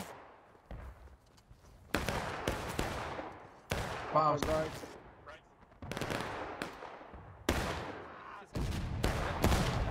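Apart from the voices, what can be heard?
cannon fire in the video game War of Rights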